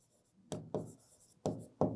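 Marker or chalk on a board makes four quick, distinct scratching strokes, close and quiet, with brief pauses between them and no speech.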